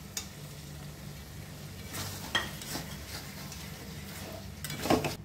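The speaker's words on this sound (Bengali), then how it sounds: "দিয়ে দেবো ভেজে রাখা চিকেনগুলো" Fried chicken pieces tipped into a pan of simmering chili chicken sauce, with a faint steady sizzle under scraping and stirring clatter, and a louder clank of pan and utensil near the end.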